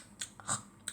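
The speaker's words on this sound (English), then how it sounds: "Alright, so I got this little slice of pizza and I'll eat it." Crunchy bites and chewing on a slice of pizza in the Dreamhouse Adventures video game, three short crisp munches spread across a second, quiet and close with no talking.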